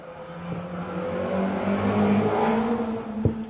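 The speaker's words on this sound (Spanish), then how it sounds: "Por acá pasan motos, autos." Traffic passing on a street outside, cars and motorbikes rumbling by at moderate distance as a steady continuous drone, with a brief thump near the end.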